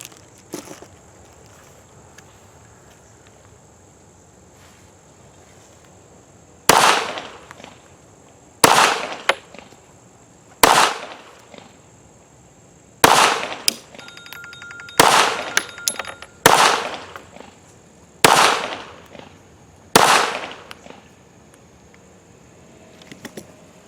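Nine loud, sharp pistol shots from an M1911 firing reloaded ammunition ring out outdoors at uneven intervals after a quiet start, each bang followed by a short echoing decay.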